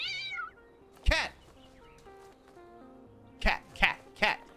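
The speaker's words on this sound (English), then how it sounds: "Cat! Cat! Cat! Cat! Cat! Cat! It's so loud!" A cat meows in The Talos Principle 2, a loud, close, drawn-out yowl, then a series of three sharp meows a few beats apart, with a voice talking faintly between them.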